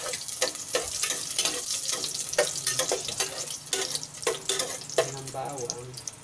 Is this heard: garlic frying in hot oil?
yes